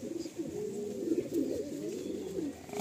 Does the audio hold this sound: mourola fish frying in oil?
no